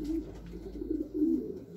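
Pigeons cooing in a large breeding loft, with low repeated throaty coos rising and falling in a steady murmur, close and fairly loud, with no talk.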